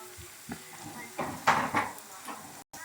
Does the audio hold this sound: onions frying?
yes